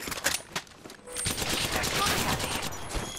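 Gunfire in Apex Legends with Valkyrie: a few sharp opening shots, then a loud, dense, sustained volley of rapid automatic fire close up.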